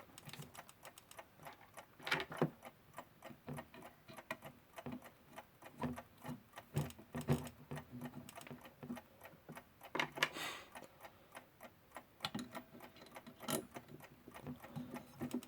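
Veglia clock mechanism running after final assembly, giving a faint, steady, close ticking with small irregular mechanical clicks throughout and no voices.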